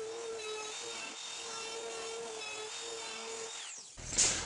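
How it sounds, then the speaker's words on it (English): A router bevel-trimming the edges of laminate countertops, with a steady high-pitched motor whine and cutting buzz that runs continuously up close before winding down near the end. "I've got to finish bevel trim routing these tops all by my lonesome"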